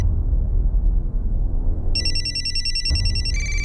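An old-style telephone bell rings loudly in bursts over a low background rumble, a near and insistent ring that changes pitch briefly toward the end.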